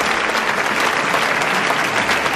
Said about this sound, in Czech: A to si zaslouží potlesk